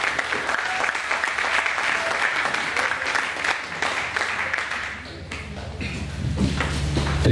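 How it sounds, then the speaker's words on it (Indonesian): Audience at a church youth camp seminar applauds to welcome a speaker, a steady wash of clapping that fades briefly and then swells again near the end. "Beri tepuk tangannya."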